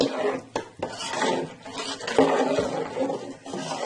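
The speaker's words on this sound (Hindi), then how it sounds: "और हम इसमें चम्मच उस वक्त तक चलाते रहेंगे जब तक इसको एक बॉयल ना हो जाए" A metal spoon stirs Punjabi kadhi in a pot over a low flame, giving repeated close scraping and clinking against the pot in an uneven rhythm, with no talk.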